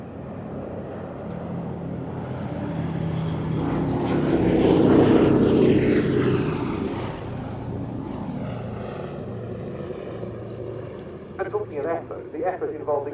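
A B-17 bomber's propeller engines drone at an airshow, swelling to a loud pass near the middle and then fading, heard under a steady commentary voice throughout.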